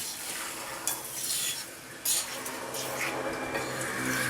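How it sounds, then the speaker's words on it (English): A metal spoon stirs an omelette in a titanium Saladmaster pan, steady close sizzling broken by two distinct scrapes and clanks of metal against the pan. "You're using a metal spoon."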